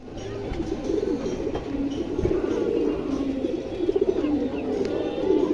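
Hurricane pigeons coo in low, throaty, repeated murmurs, close by and fairly steady, with faint background noise throughout.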